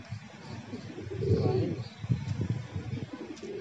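Madrasi pigeons coo softly nearby in a loft, low throaty calls rising and falling while someone talks over them.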